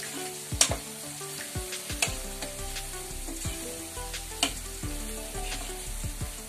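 A vegetable sauce with garlic, pepper, white pepper and ginger fries in a pan with a steady sizzle, while a spoon knocks and scrapes against the pan in repeated sharp clacks, close and alone.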